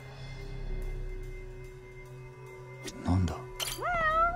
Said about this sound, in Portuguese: Opa, é um gato aqui.